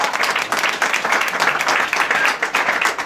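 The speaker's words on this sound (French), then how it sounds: "On applaudit alors." A room of guests at a restaurant awards evening in Paris applauds loudly and continuously, many hands clapping in a thick, even roar.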